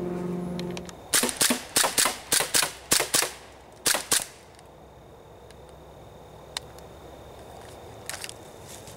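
An airsoft M4 rifle fires at a plastic target, a rapid string of about eight sharp, close cracks, then two more shots, followed by near silence with faint ticks.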